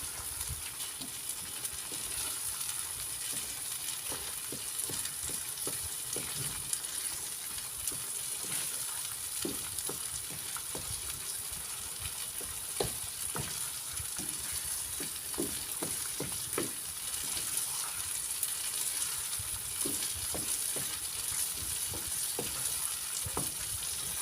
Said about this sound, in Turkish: Peyniri de eriyene kadar karıştırmamız lazım bu şekil